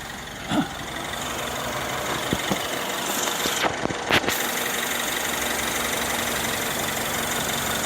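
A car engine idles steadily close by, a constant low rumble running the whole time, with a few brief knocks and clunks near the start and midway. No one speaks.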